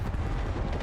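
Grenade blasts in a Call of Duty League Championship match, a dense continuous low rumble of explosions and battle noise that fills the whole moment at steady loudness.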